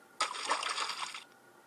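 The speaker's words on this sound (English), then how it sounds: "And the cat splashed him back." Water splashing in an animated children's story, one brisk splash and spray lasting about a second, close and clear with no talk.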